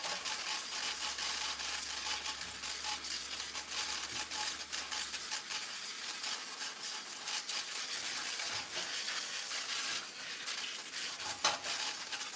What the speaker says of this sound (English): Let's just give these a quick rinse.